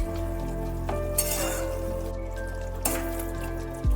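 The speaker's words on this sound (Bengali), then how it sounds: "কাঁচা সর্ষের তেলটা দিয়ে একটু ফুটতে দিতে হবে দু তিন মিনিট" Raw mustard oil heats in a pan for a mixed winter vegetable curry, giving a steady, close sizzle and frying crackle with a few faint clinks, no voices.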